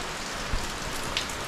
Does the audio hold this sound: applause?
no